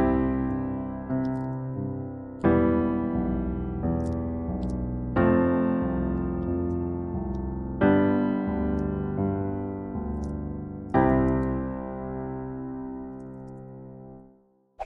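Piano arpeggio exercise played with a plain chord in the right hand, five or six evenly spaced chords struck one after another, each ringing and decaying before the next, closing on a final fading chord with no talk.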